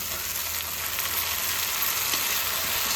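Chopped onions with a tomato and chili puree sizzle in a pan, a steady, dense hiss of frying that stays close and even throughout with no talk.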